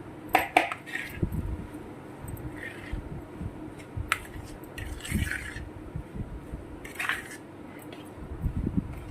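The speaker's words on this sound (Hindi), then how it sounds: "अब इसको हम मिक्स कर लेंगे।" Spoon stirring sandwich filling in a bowl, with scraping and clinking against the sides in irregular bursts, close and moderately loud, no talk.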